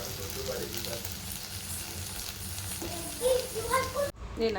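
One egg frying in a pan at home, a steady close sizzle throughout with brief stirring scrapes, while a person talks over it and a voice is faintly heard.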